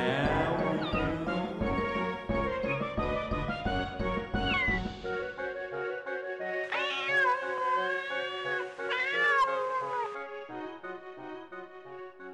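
Cat meows, several high wavering calls in a row, rise out of a busy stretch of music and other sound during a magic and hypnosis performance, fairly prominent toward the end.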